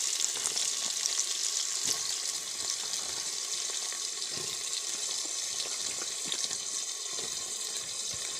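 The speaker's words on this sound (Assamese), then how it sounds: "পিঁয়াজখিনি ৰঙচুৱা হৈ থকালৈকে ভাজিব লাগে" Chopped onions fry in a pan for a chicken curry, a continuous hissing sizzle with faint crackles, steady and moderately close.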